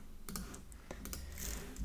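Keys on a computer keyboard are pressed during design work in Illustrator, a few light, close clicks scattered irregularly over a quiet room hum.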